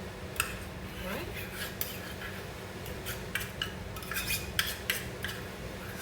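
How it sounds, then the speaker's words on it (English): A spoon stirs sunflower butter with oats in a bowl, giving soft scraping and clinking strokes at an uneven pace, close and moderately quiet over a low background hum. "I'm just gonna mix this up slowly. Just kind of mix it around and make sure my oats become well incorporated into my sun butter"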